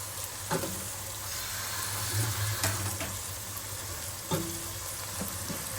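Steady sizzling of food frying in a pan, with occasional scraping stirs cutting through the hiss.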